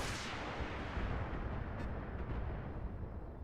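Heavy mech weapons from a BattleTech battle, including one aimed at a Victor mech, fire in a dense, loud, continuous barrage of booming blasts and rumbling explosions that fills the whole stretch.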